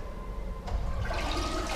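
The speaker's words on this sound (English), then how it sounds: "I am officially flushing 2020 down the toilet." A toilet flushes close by, a sudden gush of rushing water that swells quickly and keeps swirling and draining loudly for the rest of the short moment.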